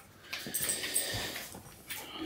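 An older, larger dog, weak in its hind end, whimpers in a string of soft, high whines and yips at close range, with faint background noise.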